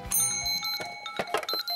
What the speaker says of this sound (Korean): 카운트와 함께 벨소리를 눌러주시고 타이머는 돌아갑니다